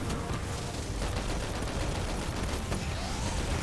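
Rapid gunfire aimed at the Overload Captain in Destiny, a dense continuous barrage of shots at steady volume with no pauses.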